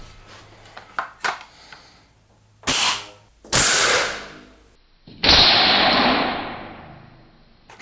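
A 3DG Glock 17 Gen 4 V3 gel blaster pistol fires 480 FPS Ultra gel balls at a target, giving three sharp, loud cracking shots a second or so apart, each followed by a lingering hiss, after softer handling clicks.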